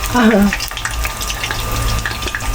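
Eggplant frying in hot oil, a steady broad sizzle running throughout at close range, with a brief voiced sound near the start.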